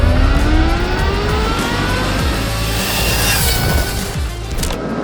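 An Ultraviolette F77 electric motorcycle accelerates hard along State Highway 46, its rising motor whine sweeping upward over heavy, steady wind and road rush that stays loud throughout, with no talking.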